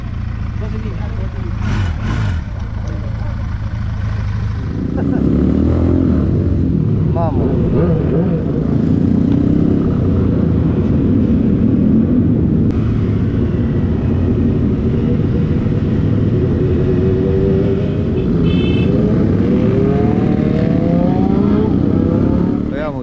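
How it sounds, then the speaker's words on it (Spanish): A motorcycle engine runs nearby in Ilo, Peru, rumbling low and revving in waves, with people talking over it and other traffic noise around. "suena serenito el motor, se nota que es motor de mecánico"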